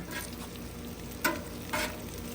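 Chopped meat frying on a Loco griddle top running about 350 degrees, with a steady close sizzle and two brief louder scrapes or stirs; no one speaks.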